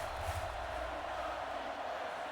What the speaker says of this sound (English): And the cheering continues.